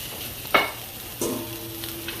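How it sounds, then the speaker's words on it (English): Peppers and onions sautéing in a pan, a soft steady sizzle with a couple of brief stirring scrapes, close and quiet. "Now I'm going to pan up my peppers and onions."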